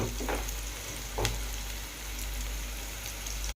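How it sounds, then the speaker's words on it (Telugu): Onions frying in a pan for chicken curry give a steady, close sizzle with a couple of brief stirring scrapes near the start, and nobody talks. "మనకి ఉల్లిగడ్డ బ్రౌన్ కలర్ వచ్చేంత వరకు వేపుకోవాలి మనం"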